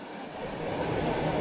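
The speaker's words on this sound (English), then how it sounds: "At sunset, the train reaches the taiga, the great Russian forests." A train rolls through the Russian taiga forest at sunset, a steady broadband rumble that swells slightly louder after the first half second and then holds, with no voices.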